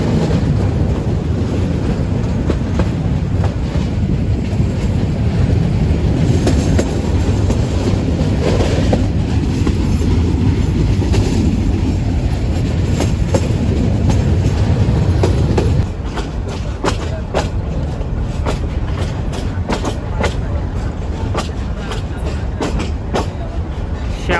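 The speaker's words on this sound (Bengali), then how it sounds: "রামসাগর এক্সপ্রেস যে এই মুহূর্তে এগিয়ে চলছে সামনের পথে" Ramsagar commuter express running on rails between Parbatipur Junction and Rangpur, with a loud, continuous rolling rumble, wind buffeting and rhythmic wheel clicks over rail joints growing sharper in the latter part.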